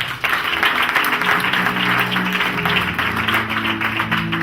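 Church congregation clapping hands for Jesus during a sermon, a loud sustained roar of clapping with a low musical tone or hum running underneath.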